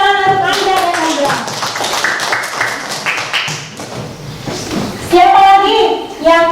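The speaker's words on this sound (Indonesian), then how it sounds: "tepuk tangan untuk Anda dan Andra." Children applauding in a primary school classroom, a short burst of clapping between a teacher's spoken remarks and children's voices.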